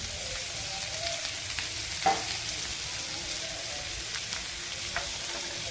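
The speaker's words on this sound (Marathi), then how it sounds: "हा कांदा चांगला फ्राय करून घेऊ।" Finely chopped onion fries in a pan with a steady, moderate sizzle and a faint scrape of stirring, continuous and without voices.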